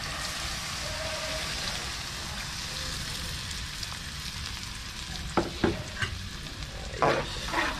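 Coconut milk poured into a pan for a Filipino tilapia dish, simmering with a steady soft sizzle and hiss, with a few louder stirring scrapes and clinks near the end.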